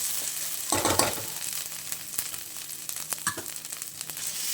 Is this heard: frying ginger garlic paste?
yes